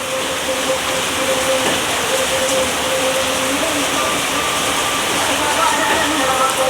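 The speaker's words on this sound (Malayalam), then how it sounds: "ഇന്ന് ഭയങ്കര മഴയാണ് കേട്ടോ" Heavy rain roars steadily and loudly without a break, a dense rushing wash filling the whole scene.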